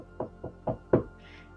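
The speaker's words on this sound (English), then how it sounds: "she heard a knock on the door." Four hollow knocks on a door, fairly close and evenly spaced, with the last one the loudest, then a short faint rustle.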